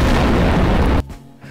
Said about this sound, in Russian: А если в лаву бросить бомбу, мне кажется, любая взорвется сразу, да?